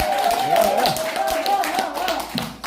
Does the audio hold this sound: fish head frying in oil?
no